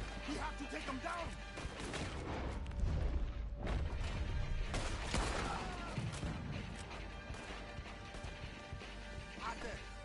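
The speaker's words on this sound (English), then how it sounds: "He's shooting." Gunfire from a shooter up in a tower during a video game battle, dense crackling shots and crashes filling the mix continuously under loud in-game voices and effects.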